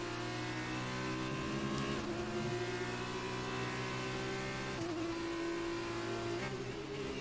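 Race car in the F1 2019 video game, F2 series career mode, driving with a steady high-pitched engine whine that holds near and loud throughout, the revs stepping up through the gears and shifting in pitch.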